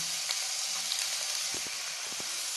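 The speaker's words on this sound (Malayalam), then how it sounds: "ഉള്ളിയും വെളുത്തുള്ളിയും ചേർത്ത് കൊടുക്കുക. ഇത് നന്നായിട്ട് വഴറ്റിയെടുക്കണം." Onion and garlic sauté in a teaspoon of coconut oil in a non-stick pan, a close, even sizzle with a few soft scrapes of stirring, and no one talking.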